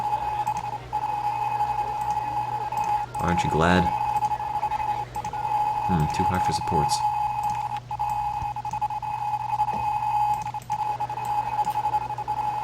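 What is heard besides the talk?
fast beeping in video game Roller Coaster Tycoon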